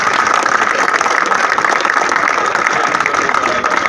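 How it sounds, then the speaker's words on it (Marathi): Applause rises from a crowd at a night cricket tournament, a steady, loud wash of clapping mixed with a continuous background hum, with no distinct voices on top. "आपण सर्वांनी एकदा टाळ्या वाजवून अभिनंदन करूया"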